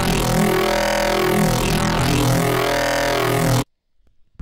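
A wide growl bass synth patch in NI Massive with two unison voices drones loud and thick, its tone sweeping in slow wobbling arcs, then cuts off abruptly into near silence.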